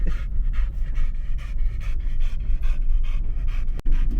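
A dog panting heavily after a walk, rapid rhythmic breaths close to the microphone, loud and continuous with a brief click near the end.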